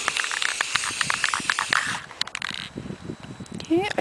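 Spray paint hisses in short bursts onto a small wooden curio cabinet outdoors on a windy day, the sprays coming in quick repeated pulses at close range.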